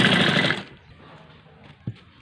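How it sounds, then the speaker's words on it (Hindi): Sewing machine stitching a half-inch seam around a cushion cover with a zipper panel, a loud dense whir for about half a second that stops abruptly, followed by quiet handling noise and a single soft knock. "इसको चारों तरफ आधा इंच सिलाई मारूंगा"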